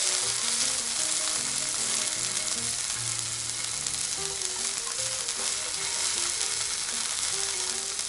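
Broccoli and beef fry in very hot oil, a loud, dense, unbroken sizzle close by with faint scraping and clinking of stirring underneath.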